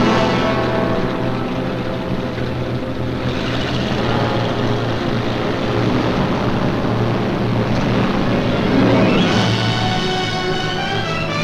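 Droning engines of British bombers in 1943 produce a loud, continuous propeller roar with wind-like rushing noise, steady and unbroken throughout, with no talk.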